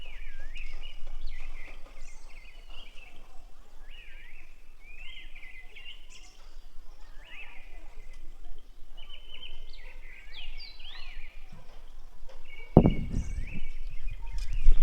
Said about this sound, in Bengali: তো তোমরা কিন্তু শুনতে পেলে পাখির ডাক